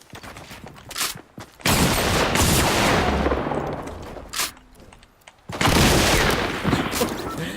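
Loud double barrel shotgun blasts in Fortnite, several heavy booming shots in quick succession with sustained game noise and rumble between them, and players' voices mixed in.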